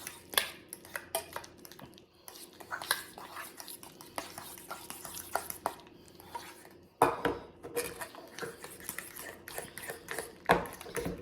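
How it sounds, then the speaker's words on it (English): A fork clinks and scrapes rapidly against a bowl of jalapeno popper chicken salad in steady stirring strokes, with a brief pause partway through. "let's try it with the fork"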